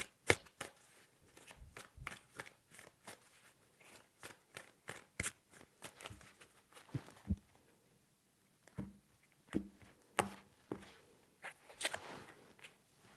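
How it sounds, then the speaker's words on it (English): Tarot cards are shuffled by hand in repeated quick riffles and taps. The sound is faint and close, with brief pauses between bursts. "3 shuffles."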